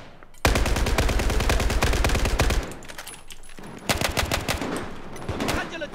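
A SCAR-H battle rifle fires in Battlefield 4 on PC, loud rapid bursts of gunshots in a steady stream, then a short pause before another run of shots with a few spaced single-shot cracks.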